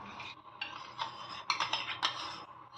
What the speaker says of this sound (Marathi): दही आपल्याला चांगलं व्यवस्थित असं फेटून घ्यायचं आहे